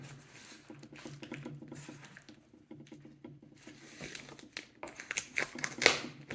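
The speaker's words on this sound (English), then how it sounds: "very carefully with this knife. Very carefully, because this thing's wicked razor sharp. Cut this plastic so I can get into this thing" A razor-sharp knife slices and picks at plastic shrink wrap on a new book, giving soft crinkles, scratchy pattering and small tearing sounds that grow busier toward the end, fairly close and quiet.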